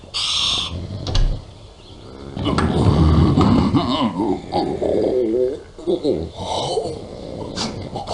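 A sleeping wolf in a fairy-tale video game snores and snorts in loud wavering breaths, with playful musical effects and voices mixed in.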